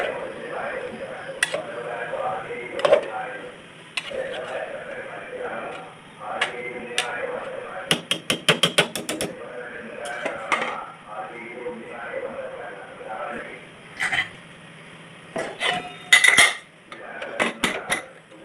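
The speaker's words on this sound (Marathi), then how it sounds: "त्यानंतर अजून थोडंसं हलवून घ्यायचं आहे." A spoon scrapes and clinks against a metal pressure cooker pot while halwa cooks with milk. Bursts of rapid rattling stirring come between quieter pauses, and a voice talks intermittently.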